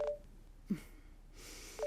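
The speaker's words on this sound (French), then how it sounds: "je dois répondre au téléphone" A telephone in an indoor drama scene gives two brief electronic tone bursts, one at the very start and another near the end, with quiet room ambience between and no talking.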